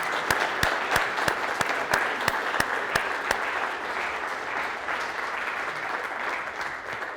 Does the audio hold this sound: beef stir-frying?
no